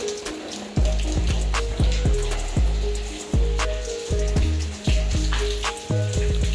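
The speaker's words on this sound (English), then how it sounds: "The water is pouring off up there and splatting coming inside." Rainwater pours off the roof of a beach house under construction in the Philippines and splats inside, a continuous close watery rush broken by repeated heavy slapping splashes roughly every second.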